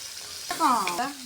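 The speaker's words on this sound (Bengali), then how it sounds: "মাছগুলো ভাজা হয়ে গেছে" Fish pieces fry in hot oil in a pan for a potato and pointed-gourd curry, giving a short burst of crackling sizzle with a scraping stir near the end.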